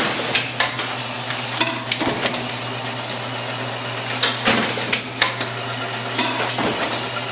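Bourg SBM booklet maker with UT extended conveyor runs steadily, trimmed booklet sets clattering and knocking onto the conveyor in irregular sharp clicks over a constant mechanical hum.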